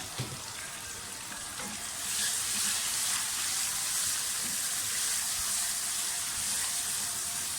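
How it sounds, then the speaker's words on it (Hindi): Ground onion paste hitting hot oil for a chicken keema fry, a steady broadband sizzle that swells louder after a couple of seconds and holds evenly close up, with no talking. "प्याज को थोड़ा सा फ्राई कर लें"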